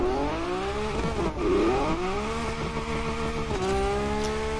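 A Lamborghini's engine in The Crew Motorfest roars through a tunnel, revving up and shifting in rising sweeps with a brief dip and squeal midway, loud and echoing, with no talk.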